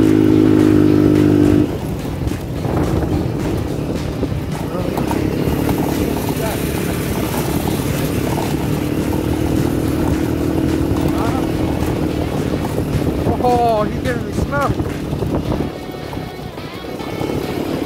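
A small moped engine rides rough, snowy backcountry trails in Idaho, a steady buzzing drone that runs throughout beneath near, continuous talking from several people.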